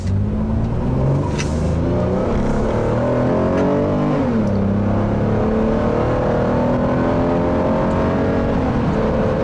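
A 2015 Toyota Sienna SE minivan accelerating at full throttle, its engine droning loudly and rising steadily in pitch, with one brief dip as the transmission shifts before it climbs again, heard from inside the cabin.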